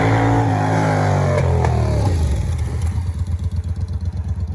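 A Triumph Thunderbird or Speedmaster motorcycle fitted with 16-inch black shorty slip-on exhausts revs loudly up close, then drops back to a lumpy, thudding idle.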